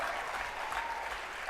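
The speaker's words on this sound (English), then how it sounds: "Let's give them a round of applause." Audience applause at an awards gala, a dense steady wash of many hands clapping at close range for the whole moment, with no speech over it.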